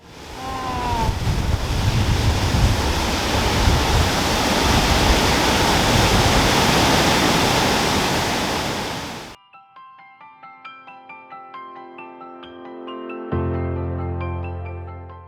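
Axarafoss waterfall on the river Axara in Thingvellir National Park, Iceland, roars as a loud, dense, continuous rush of falling water, then cuts off abruptly, after which soft tonal music follows.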